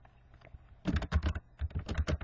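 Brisk keystrokes on a computer keyboard entering list items in desktop task software, two quick clusters of close, crisp clicks after a quiet start.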